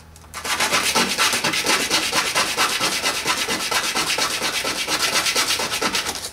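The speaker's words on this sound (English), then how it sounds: "That's why a lot of guys freak out when they have to sand the bearing like this." A VW cam thrust bearing is sanded by hand with rapid, rhythmic back-and-forth abrasive rubbing, loud and close, starting abruptly and continuing steadily without speech.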